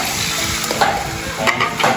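Catfish (hito) frying in hot oil, a steady broadband sizzle with small crackles and a couple of louder bursts, close and continuous throughout with no talking.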